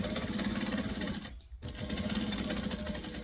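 A sewing machine top stitches a fabric bag with a fast, steady mechanical whir, close and continuous, briefly stopping for a moment before starting again, with no talking.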